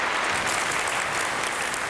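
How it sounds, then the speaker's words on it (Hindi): A studio audience on a family game show breaks into hearty applause, a thick, sustained burst of many hands clapping at steady volume with no voices on top. "जोरदार तालियां एवरीबॉडी"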